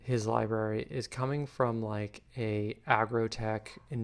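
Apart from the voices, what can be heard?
No distinct noise like a dog, phone or traffic.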